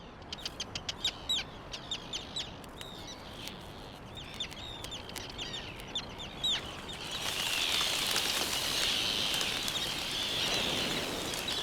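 Seabirds at a ground-nesting colony on a volcanic island, giving a quick series of sharp, clucking calls that then give way to a denser, steady wash of calling and rustling, moderately distant, with no talk.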